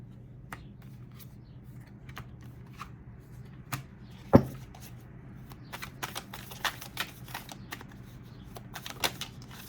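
Tarot cards shuffled and drawn for an upright-only Aquarius reading make scattered soft riffles and clicks, with one sharper snap midway, close and fairly quiet over a steady low hum, no one talking.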